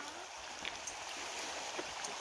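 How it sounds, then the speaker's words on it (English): A tiny waterfall gives a steady, faint rushing and splashing of flowing water, continuous and even throughout with no talk. "Tiny waterfall."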